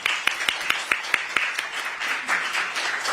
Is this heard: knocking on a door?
no